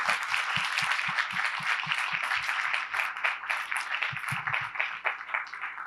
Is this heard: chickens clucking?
no